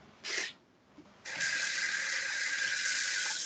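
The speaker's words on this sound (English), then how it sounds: "We didn't need to hear your water running." Water running from a tap, with a short hissing gush first, then a brief pause, then a steady loud stream that continues to the end, with no speech.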